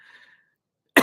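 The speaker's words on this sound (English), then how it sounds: "made me cough" A single sharp, loud cough bursts out close to the mic at the very end, after a faint stretch of quiet tonal sound and near-silence.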